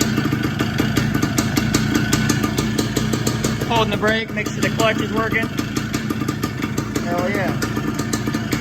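A Tri-Moto 175 engine runs steadily in gear with a constant low hum while held on the brake, and someone talks briefly over it.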